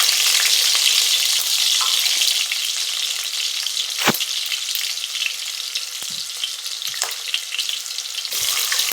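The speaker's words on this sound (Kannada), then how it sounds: "ಒಂದು ಬಾಂಡಿ ಒಳಗೆ ಸ್ವಲ್ಪ ಎಣ್ಣೆ ಹಾಕ್ಕೊಂಡು ಉಳ್ಳಾಗಡ್ಡಿ ಹಾಕೊಂಡೀನಿ" Onions frying in oil in a pan, a steady bright sizzle filling the clip with a few sharp spatters and stirring clicks, close and continuous with no talk.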